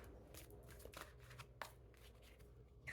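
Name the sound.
tarot cards being shuffled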